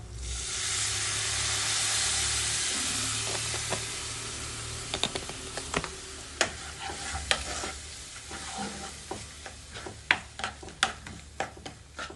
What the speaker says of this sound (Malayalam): ഇനി വിനാഗിരി ഒഴിച്ച് കൊടുക്കാം കേട്ടോ.